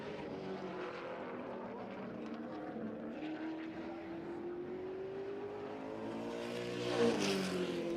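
Race car number 20 laps the track at the Jefferson season opener, a steady engine drone that slowly rises in pitch, then swells louder near the end as it passes, with faint crowd and track noise beneath.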